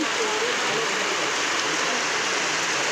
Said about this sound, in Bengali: দারুণ বৃষ্টি হচ্ছে